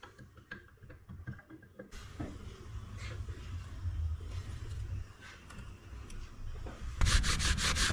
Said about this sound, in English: Let's go ahead and scrub off the grime.